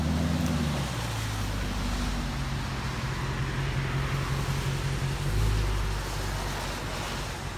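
2012 Dodge Challenger with a 5.7 HEMI V8 and Magnaflow Magnapacks exhaust, a steady deep low rumble at idle, close and continuous, with a slight swell in the drone near the end.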